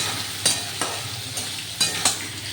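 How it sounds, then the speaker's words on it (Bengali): Soybean chunks frying in oil together with potatoes, a constant sizzle punctuated by several sharp scrapes of a spatula against the pan at uneven intervals, close and clear. "সয়াবিনটাকেও আলুর সঙ্গে আমি সুন্দর করে ভেজে নিই"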